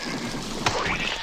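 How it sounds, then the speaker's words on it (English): A clay goat gets crushed in The Neverhood, a single wet squelching smack landing midway through and quickly fading under a steady background. "he crushed the clay goat."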